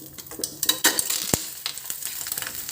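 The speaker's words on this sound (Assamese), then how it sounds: "তেল নিদিওঁ, চিকেনখিনি প্ৰথমতে দি দিম।" Chicken pieces hit a dry wok on high flame with no oil, giving sharp crackling sizzles and quick scraping stirs in short bursts, close and fairly loud.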